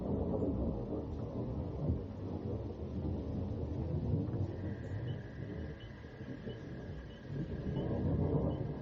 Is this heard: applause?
no